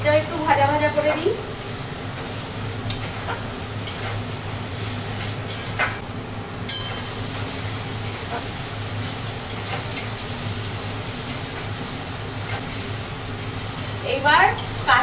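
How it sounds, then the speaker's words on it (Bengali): Garlic-ginger paste and onions fry in a pan with a steady sizzle, punctuated by repeated scraping and clinking of a spoon stirring against the pan, plus a brief voice at the start and end. "এটা একটু ভাজা ভাজা করে নিই"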